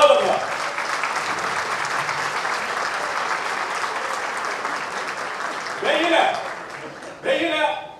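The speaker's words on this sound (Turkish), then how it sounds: "Lütfen ona güzel bir alkış alalım mı?" Crowd applause at a family iftar dinner, steady clapping from many guests with a voice speaking over it briefly near the end.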